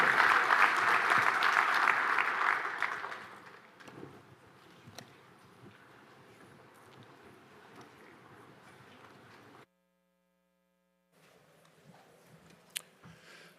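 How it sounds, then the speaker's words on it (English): Audience applause after a fireside chat event fills the room loudly for a few seconds, then fades out, leaving a quiet hum, a silent gap and faint room noise. "I want all of you all to please give Bob Johnson a round of applause for his time here with us today"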